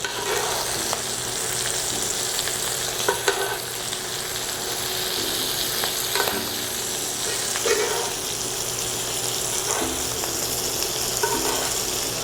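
Pork chops pan-frying in butter give a steady, dense sizzle that carries through, with occasional sharper crackles and spits standing out close by.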